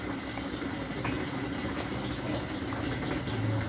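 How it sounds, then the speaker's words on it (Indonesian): Steady rushing hiss of water leaking from a tap, continuous and fairly loud with a low hum underneath, no voices. "Keran di sini bocor."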